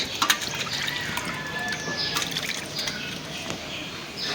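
Cut pieces of surma fish are rinsed in water, with steady splashing, trickling and sloshing throughout and small clinks, close by and with no talking.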